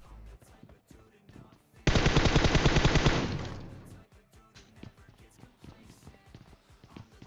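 Quiet background chatter, then a loud, rapid burst of automatic gunfire from the video game PUBG Mobile lasts about two seconds and fades out before the murmuring resumes.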